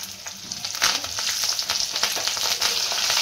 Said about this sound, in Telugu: మినప్పప్పు వేసినాక మిరపకాయలు, కొంచెం కరివేపాకు. సో బాగా మిక్స్ చేసుకోవాలి దాన్ని.